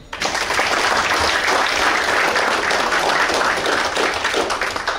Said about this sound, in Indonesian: Aplaus buat manajemen.